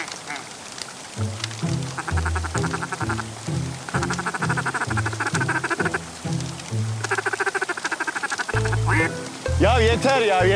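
Duck call blown repeatedly during a duck hunt, a series of rhythmic nasal quacking blasts in short bursts, loud and close, ending with a couple of sharper, rising honks.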